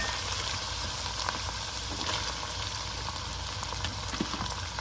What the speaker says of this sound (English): Dutch oven set to sear. We're going to let this sear, and we will be back.